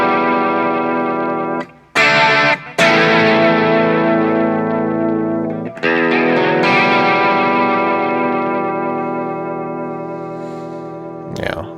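Overdriven electric guitar goes through a Flashback delay pedal on a vibrato setting, with a few loud chord strikes and long wavering, pitch-wobbling sustains that slowly fade before a final short hit.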